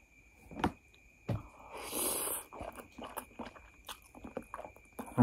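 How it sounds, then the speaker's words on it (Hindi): Biting into and chewing spicy chicken noodles at close range, with a few sharp crunchy bites and a brief scraping burst amid softer, irregular chewing sounds. "तो इसको फर्स्ट बाइट करते हैं।"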